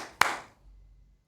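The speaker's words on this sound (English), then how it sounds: "I'm going to clap them again for the lights to come back on" A single sharp hand clap, close and crisp, followed by a brief fading echo and quiet.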